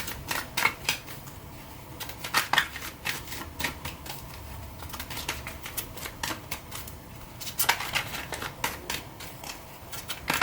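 Tarot cards are shuffled and drawn close by, with crisp riffling and tapping in irregular bursts.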